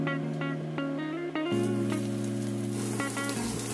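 Onion added to garlic sautéing in hot oil for Filipino ginisang ampalaya, a steady broadband sizzle that swells louder as the onion hits the pan, with a low hum and faint clinks underneath.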